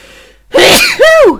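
One loud, close sneeze: a sharp intake of breath followed by an explosive burst, with no talking around it.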